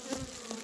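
Honeybees buzzing inside a hive box during colony preparation, a brief dense hum with close, wavering wingbeat drone.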